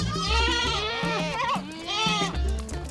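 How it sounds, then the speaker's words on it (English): Goats and other livestock bleating on a family smallholding farm in Kenya, several loud overlapping calls repeating close by, with a harmonic, wavering quality and background farm noise. "As well as cows, John and Miriam have goats."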